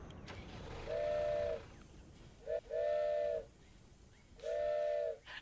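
Train whistle in the video game Dinkum, three sustained steam-style blasts of about a second each, separated by short gaps, moderately loud over a faint background.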